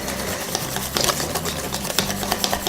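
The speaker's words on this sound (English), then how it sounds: "I'm starting with my whisk today to kind of get any lumps out." Pancake-bread batter whisked with a wire whisk, a close, steady stream of rapid rhythmic clicking and sloshing strokes without pause.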